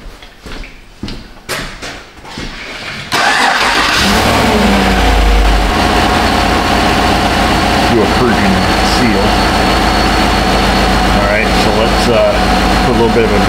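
A car engine cranks and catches after about three seconds of quiet rustling, then runs loud and steady at a constant idle during an EVAP leak test in a repair shop.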